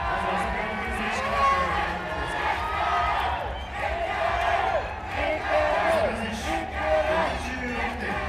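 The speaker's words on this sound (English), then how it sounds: "The chants of Mikuru around Roppongi Hills." A large crowd chanting a fighter's name around Roppongi Hills at a RIZIN weigh-in, a loud, rhythmic roar of voices rising and falling steadily, with some talk mixed in.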